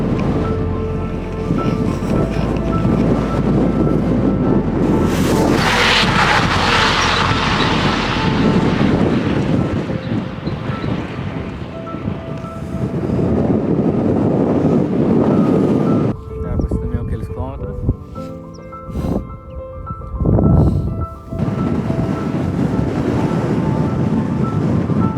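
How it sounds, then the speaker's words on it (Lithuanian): Strong crosswind buffeting a cyclist on an Iceland road, loud roaring gusts hitting the microphone in long waves, easing briefly toward the end before rising again, with a voice speaking at times. "Mokau važiuoti pučiant šoniniam vėjai."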